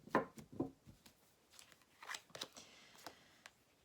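Cards for a tarot-style reading handled and drawn on a table: a few soft papery snaps and shuffles, brief slides and taps spread across a few seconds, quiet and close, with no talk.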